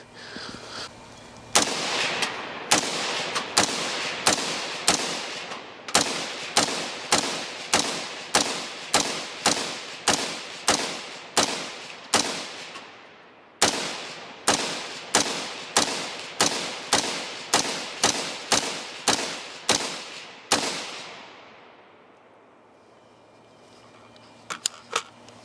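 A PSA Sabre 15 rifle fired at a shooting range, a long string of about thirty loud, sharp shots at a quick, steady cadence with one brief pause midway, each crack ringing out with a short echo, no talking.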